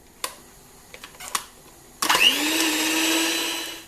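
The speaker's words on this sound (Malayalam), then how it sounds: "ഇനി ഞാൻ ഈ ബീറ്റർ വെച്ചിട്ട് തന്നെ ലോ സ്പീഡിൽ ഒരു 10-30 സെക്കൻഡ് അതൊന്ന് നന്നായിട്ട് ബ്ലെൻഡായി" An electric beater mixing black forest cake batter at low speed: a few light clicks and taps, then the motor starts with a loud, steady whir that runs to the end.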